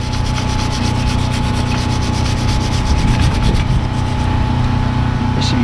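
Steady, close scrubbing of a brake caliper on a 2015 Mitsubishi Mirage G4 during a front brake pad job, a continuous loud rasping rub with no pauses.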